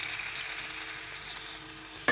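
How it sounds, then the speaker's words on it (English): Chicken pieces fry in hot oil for biryani, giving a steady, close broadband sizzle throughout, with a brief louder clatter of stirring or a utensil at the very end. No one speaks. "And I will fry till chicken changes its color."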